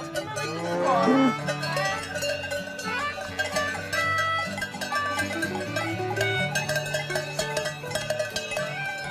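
Cows grazing on an alpine pasture in Dongio, Ticino, their cowbells clanking continuously in a dense, overlapping jangle, with a brief low moo early on.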